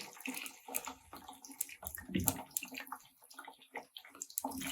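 Salted potato fries going into hot oil on a medium flame, a quiet, irregular crackling sizzle with bubbling that continues steadily.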